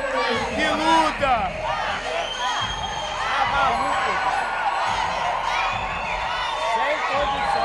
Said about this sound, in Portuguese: Uma salva de palmas para as atletas!